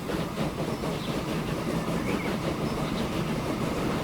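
A train rolls past in the Transport Fever 2 video game, a continuous rumbling clatter of wheels and cars at moderate level, steady from start to finish with no voices.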